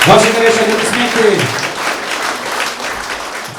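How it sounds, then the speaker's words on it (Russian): Warm audience applause after a song performance at a concert; a voice trails off in the first second or so, then even, sustained clapping carries on at a moderate level to the end. "Ваши горячие аплодисменты."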